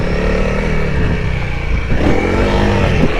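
A Honda CRF300L motorcycle revs hard for a power wheelie, the engine roaring loud and close, dipping briefly before surging again with a rising pitch.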